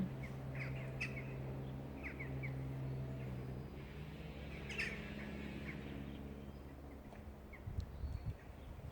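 Birds chirp in scattered, faint calls outdoors under a cloudy sky, set against a steady low background hum.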